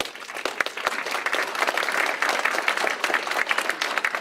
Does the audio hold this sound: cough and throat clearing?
no